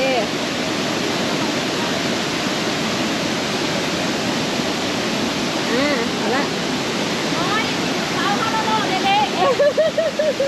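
A tall waterfall, the highest in southern Laos, roars as a loud, steady broadband rush that fills the whole clip, with faint voices and whistle-like tones rising through it near the end.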